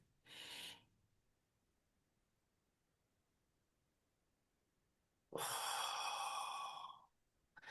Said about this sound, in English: slowly take 5 deep breaths